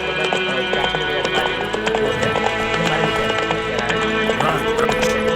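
Roach the horse gallops in the Witcher 3 video game, steady clip-clop hoofbeats running close and loud over a busy game soundscape.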